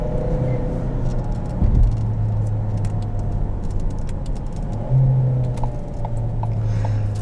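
A 2017 Ford Escape SE engine hums and rises under acceleration, heard from the cabin as a steady moderate drone with two brief surges in pitch and loudness, without talk.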